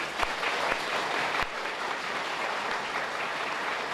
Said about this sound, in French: Je vous demande de les applaudir chaudement